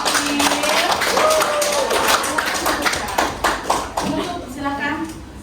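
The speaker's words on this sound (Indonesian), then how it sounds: "silakan tepuk tangan untuk kelompok terakhir" A classroom audience applauds the last student group after a chemistry presentation, with scattered sharp claps and overlapping talk, the clapping thinning out toward the end.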